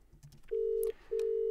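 An incoming VoIP call rings on a virtual phone, two long electronic ring tones of equal length separated by a short gap, loud and clean against a quiet background.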